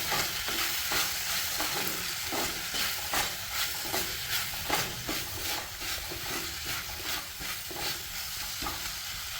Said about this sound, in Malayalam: ആവശ്യത്തിൻ്റെ ഉപ്പും കൂടി ചേർത്ത് കൊടുക്കുക എന്നിട്ട് നന്നായിട്ടൊന്ന് ഇളക്കി കൊടുക്കുക